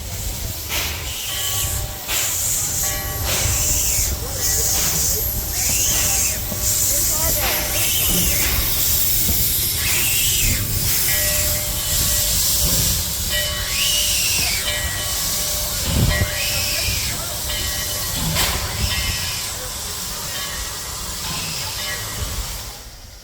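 Narrow gauge steam locomotive Glenbrook rolling back behind the Tahoe to couple onto a three-car train at a steam-up event, with a continuous loud hiss, rhythmic chuffing bursts and rail clatter, plus a faint whistle-like tone.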